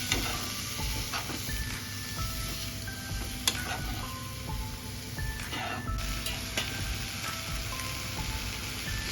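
Grated cabbage frying in a pan with a little salt gives a steady, close sizzle like light rain, with occasional sharper crackles and a few faint utensil clinks.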